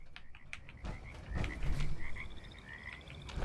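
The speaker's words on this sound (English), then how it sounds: "Hearing frogs." Frogs croak repeatedly in the Fallout 76 video game, a chorus of rhythmic calls mixed with scattered clicking, with no one talking.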